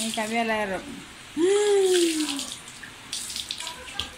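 Tap water runs into a bathtub being filled in a home, a steady rushing stream under someone talking in Spanish and a pet's brief cries.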